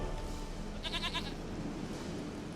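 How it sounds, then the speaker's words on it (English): A goat in The Witcher 3: Wild Hunt gives one short, wavering bleat, clear over steady ambient background noise with no talk. "Goat of mine, dearest, sweetest goat."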